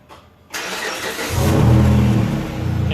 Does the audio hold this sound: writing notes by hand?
no